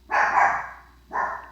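Dogs bark twice, a longer bark and then a shorter one after a brief pause, loud and close in a quiet room with no talking.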